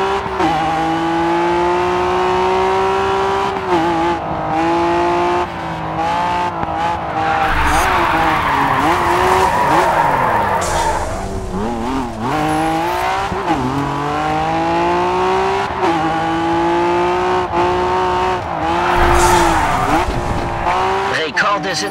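A car drifting in the racing game Grid 2, its engine droning loudly and steadily while tires squeal long and wavering through the slides, with the pitch rising and falling as the car shifts, accompanied by a voice speaking over it.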